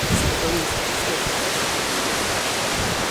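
Wind blows hard across the Maspalomas sand dunes on Gran Canaria, a steady broadband rush buffeting the microphone with no letup.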